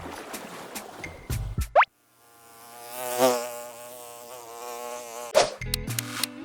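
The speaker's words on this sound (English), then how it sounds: "It's a cute bee." A bee buzzing steadily and close by, a sustained droning hum with slight wavering pitch lasting several seconds, bracketed by short bursts of other sounds before and after.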